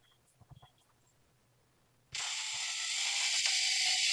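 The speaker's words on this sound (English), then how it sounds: "now we just got done reaming" Power reamer cutting into a Jeep JK steering knuckle for chromoly one-ton steering: after a few faint clicks, a loud steady high-pitched whirring grind starts abruptly and runs on close up.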